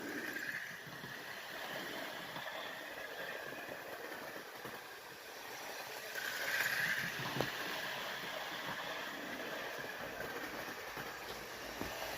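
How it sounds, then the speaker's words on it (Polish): Steady mechanical hum and rumble of an EU07 electric locomotive hauling a freight train, continuous and moderately distant, with a brief squeal midway. "I tak się właśnie prezentuje ten lokomotywa EU07 ze składem towarowym."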